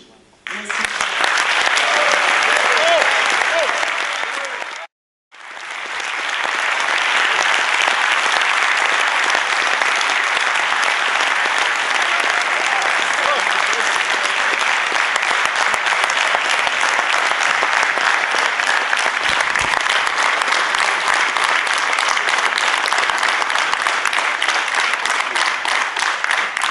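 A conference audience applauds after a speech at a public colloquium, loud sustained clapping that breaks off briefly near five seconds, then resumes and continues at full strength with some crowd murmur.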